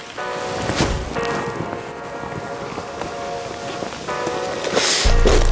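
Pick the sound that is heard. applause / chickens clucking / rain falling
rain falling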